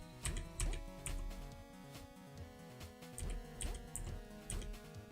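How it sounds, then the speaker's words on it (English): Computer keyboard keys clacking rapidly during play, bursts of crisp clicks in uneven rhythm, close to the microphone with a low background hum and no speech. "the clacking you hear on my keyboard"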